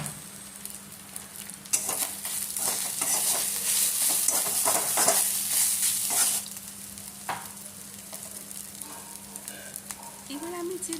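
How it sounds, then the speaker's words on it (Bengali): Ground coriander, cumin and red chili powder fry in hot oil with garlic paste for an egg korma, making a loud, close, continuous sizzle with scraping stirs that softens partway through, along with a steady low hum. "এবার শুকনো মশলা দিয়ে দিচ্ছি এখানে ধনে গুঁড়ো, জিরে গুঁড়ো, আর আমি দিয়ে দিচ্ছি রেড চিলি পাউডার"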